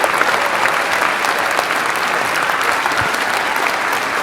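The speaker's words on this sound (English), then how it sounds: "Please, can you give him a bigger round of applause?" Sustained applause from a large crowd at a Rotary Club District 9141 plenary session, steady and dense clapping filling the whole stretch without pause.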